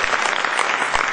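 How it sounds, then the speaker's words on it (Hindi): A brief, loud burst of audience applause at a class session, dense and close-up, lasting about a second. "एक बार जोरदार तालियां"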